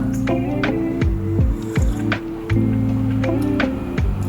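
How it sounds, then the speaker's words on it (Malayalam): A hot Herbalife drink is poured into a glass, giving a continuous liquid stream with a rising fill tone and small drips and splashes over a few seconds, close up and with no voices. "ഇതിലേക്ക് ഒഴിച്ചു കൊടുക്കാം."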